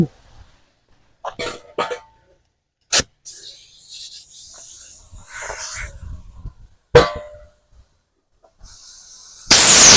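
Sharp, loud firecracker cannon blasts ring out, a couple of distinct bangs separated by quieter crackling, rustling and brief voices.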